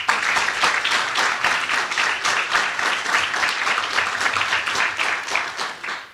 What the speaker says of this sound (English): I think we need to give a round of applause for Wandile.